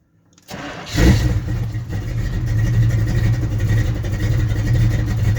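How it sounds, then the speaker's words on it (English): A Chevy K30 truck with a 454 V8 cold starts at about 50 degrees: brief silence, a sharp cranking catch, then the engine fires and settles into a loud, rumbling idle that stays steady and close. "Can you do a cold start at 50 degrees?"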